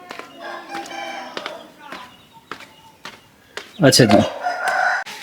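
A rooster crows loudly and close near the end, after clucking and scattered bird sounds; a person speaks briefly in the background.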